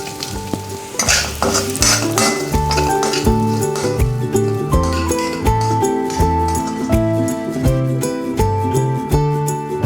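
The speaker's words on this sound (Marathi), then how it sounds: "आपल्याला ओला नारळ जो आहे तो ज्याचे मी तुकडे करून घेतलेले आहेत तो व्यवस्थित पुन्हा एकदा भाजून घ्यायचा आहे" Tender coconut pieces roast in oil in a pan, stirred with a clattering spoon in a loud, close, continuous sizzle, while steady rhythmic music plays over it.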